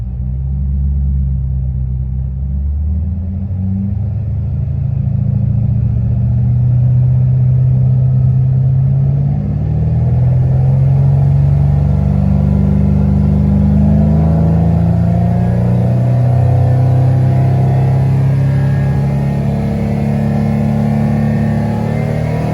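A tuned Shelby GT500 engine idles with a deep rumble, then its revs climb slowly and steadily toward 5,500 RPM and hold there, a loud, close, sustained drone with no talking over it.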